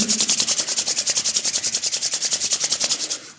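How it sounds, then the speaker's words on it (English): Two hands rubbed briskly together to build heat during a guided group practice, making a loud, close, rhythmic swishing friction of about fifteen even strokes that fades out at the end. "And then bring the hands together and rub them, create some heat."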